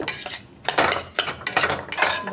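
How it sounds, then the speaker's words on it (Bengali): Boiled potato being mashed in a metal pot with a spatula, giving a quick series of close clattering scrapes and knocks against the metal in an uneven rhythm. "আলুটাকে এইভাবে খুঁটি দিয়ে ম্যাশ করে দেবো"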